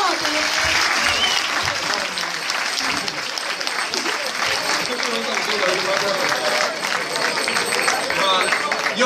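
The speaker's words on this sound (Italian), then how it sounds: "un grandissimo applauso, veramente" Audience at a local talent show in Torella breaks into big, sustained applause, a full wash of clapping from the crowd lasting around nine seconds, with some voices and murmuring underneath.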